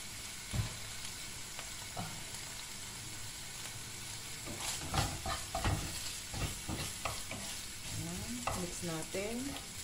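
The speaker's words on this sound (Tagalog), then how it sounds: "Habang ginigisa ko po siya" Salmon and broccoli sautéing in a pan, with steady sizzling and frying under repeated scraping and stirring strokes that grow busier toward the end, close and moderately quiet.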